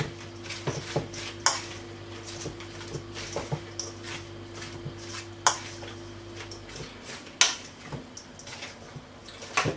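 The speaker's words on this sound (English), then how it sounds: "And of course I've shredded carrots and rhubarb, so I'll add those first. And just give it a little stir." Shredded carrots and rhubarb being stirred in a bowl for coleslaw, with scraping and clinking of a utensil against the bowl and several sharper knocks, close and moderately loud, with no voices.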